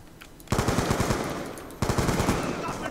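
Automatic weapon fire in the video game Black Ops 2 comes in two loud, rapid bursts of shots, one after a short opening pause and another just under two seconds in, with no speech over them.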